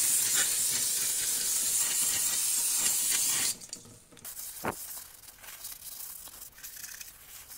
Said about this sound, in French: tu lésines pas sur le nettoyant frein